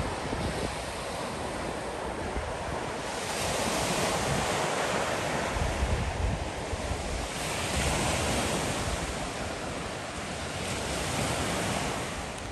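Mediterranean sea waves wash against the coast in a continuous roar of surf, swelling and easing in slow surges with wind buffeting the microphone, loud and close, with no speech.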